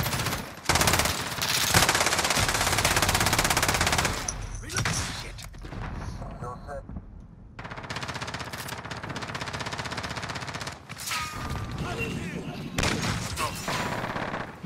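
Rapid bursts of automatic gunfire and heavy shots crackle through a Call of Duty: Modern Warfare match, loud and dense with short pauses, while a player talks over the action.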